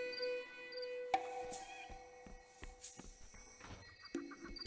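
A draft horse in the fantasy video game Two Worlds II, hooves clopping in an uneven walk with a few sharp thuds and tonal whinny-like calls, soft and fairly distant, with no talk.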